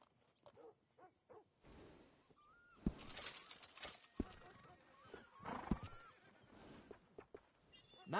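A horse in the Red Dead Redemption 2 video game whinnies twice after being groomed, the neighs rising and falling amid soft hoof shuffles and game ambience, fairly close and clear.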